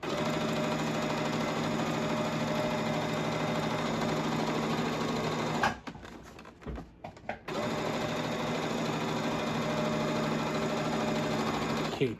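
A sewing machine runs steadily while stitching a double seam on a crash bag, the whirring drone pausing briefly in the middle before resuming.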